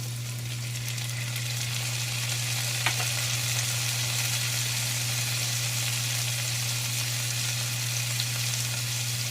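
Carrots and pineapple sizzle steadily in a hot pan for a sweet and sour fish dish, a constant close frying hiss with a faint low hum underneath and no talking.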